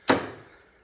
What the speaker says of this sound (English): Let's see if I can get this door open.